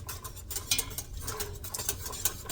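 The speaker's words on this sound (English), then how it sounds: "I'm gonna stir it real good" Pink-box pectin being stirred into a pot, giving a quiet scraping and clinking of utensil against the pot in irregular strokes, close and soft, with no talk.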